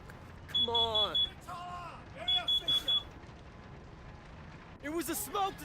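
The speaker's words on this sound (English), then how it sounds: "It was a smoke detector." A smoke detector alarm in the video game NBA 2K19 sounds in short bursts of high, piercing beeps, several clusters in a row, with game dialogue and background sound running between the bursts.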